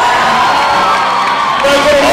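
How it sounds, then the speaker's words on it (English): Big home crowd on its feet at a high school basketball game between Doniphan and Poplar Bluff, a loud continuous roar of cheering and whooping as the starting players are introduced. "Big crowd on hand on their feet here as the Dons are being introduced."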